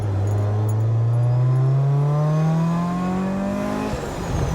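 A Rotrex-supercharged Mazda Miata engine, recorded from inside the car, revs up in one loud rising pull toward fuel cut near 7,500 rpm, its droning pitch climbing steadily before easing off.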